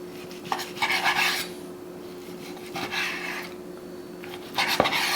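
A knife slices bacon into strips on a cutting board in a home kitchen, giving three distinct bursts of rasping strokes separated by pauses, close and moderately loud, with no talk.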